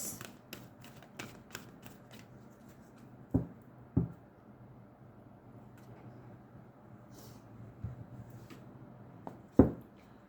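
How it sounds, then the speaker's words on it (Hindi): Tarot cards being shuffled by hand make faint, crisp flicks and taps at a quick pace, with a few sharper knocks standing out against a quiet background. "फाइनल शफल बाबा जी"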